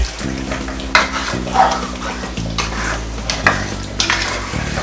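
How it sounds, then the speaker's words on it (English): Ghana okra stew with meat stock added cooks in a pot, with busy stirring clatter and bubbling sizzle over a low steady hum, close and fairly loud. "I'm also going to add in my stock from the meat I cooked in."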